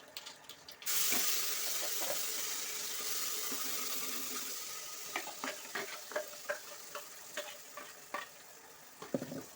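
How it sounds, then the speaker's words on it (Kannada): Ground masala spice paste frying in hot oil with garlic for bus-stand style sambar, a steady sizzle followed by a run of scraping stirs and clinks near the end. "ಮಸಾಲೆನ ಎಣ್ಣೆಲಿ ಸ್ವಲ್ಪ ಫ್ರೈ ಮಾಡಿಕೊಂಡು"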